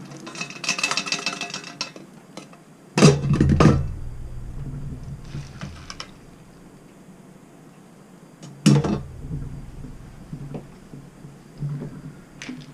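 Cooked macaroni being drained in an RV kitchen: two loud bursts of water pouring and metal pot clatter, each trailing off into faint sink handling and clinks, with quieter rattles between.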